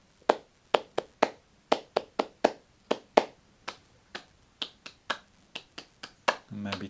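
Sharp hand claps beat out a rhythm, spaced in short groups with brief pauses, close and crisp against a quiet room, with a faint rumble of another sound entering at the very end.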